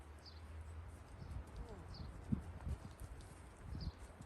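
Horse hooves clip-clop on the ground during a riding lesson, a faint, irregular rhythm of soft thuds heard at a distance, with bird chirps and quiet background sounds around them.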